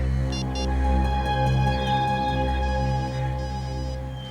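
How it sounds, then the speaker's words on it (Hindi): A phone ringtone plays faintly in the distance, short repeated tonal bursts over a low steady hum. "सर घंटी बज रही है।"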